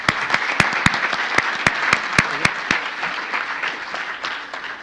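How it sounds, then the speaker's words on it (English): Audience applause at a university multi-faith panel, a room of hands clapping steadily with a few sharp, louder claps standing out near the front, holding fairly even and then thinning slightly toward the end. "Let's give Rick a round of applause, too."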